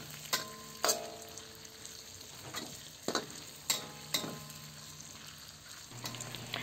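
Chicken and carrot strips stir-fried in a pan: a soft sizzle underneath, broken by several distinct scraping clatters of the utensil against the pan at irregular intervals, with no voices.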